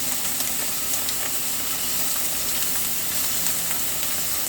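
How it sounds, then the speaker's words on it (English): A steak sears in a hot pan, giving a loud, steady, close sizzle and hiss that fills the whole moment without pause or voices. "we just throw the entire thing in there. Just drop it when it's hot"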